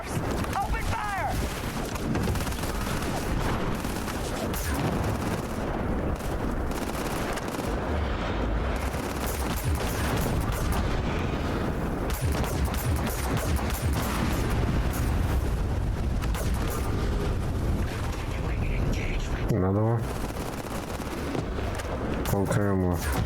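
Sustained gunfire and blasts in a Starfield firefight, loud and continuous for over twenty seconds, with voices talking over the shooting.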